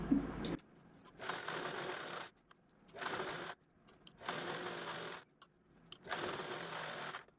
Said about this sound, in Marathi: आता आपल्याला अशा पद्धतीने इथे जो चौकोन आहे मधला यावरती पण स्टिच करून घ्यायचा आहे